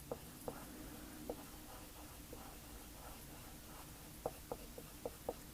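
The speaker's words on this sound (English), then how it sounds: "then I just draw the toe" Pencil sketching on paper while drawing the toe of a landing anime wolf: faint, light scratching strokes with a few sharper ticks, quiet and close over a soft background hiss.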